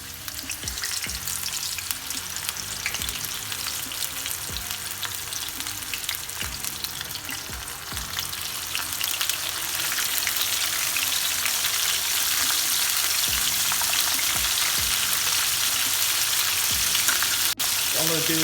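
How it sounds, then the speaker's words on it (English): Chicken pieces, buttermilk-battered for crispy fried chicken, hiss and crackle steadily in hot oil in a frying pan, with a dense continuous sizzle that grows louder partway through and scattered small pops, close up and with no talking. "I'm gonna add in the chicken pieces into the frying pan"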